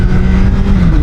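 2025 Suzuki Hayabusa with a 1340 cc engine, a loud close burst of deep engine revving with a strong low growl, alone and without talk.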